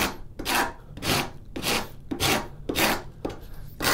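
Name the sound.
heavy duty cabinet maker's rasp filing wood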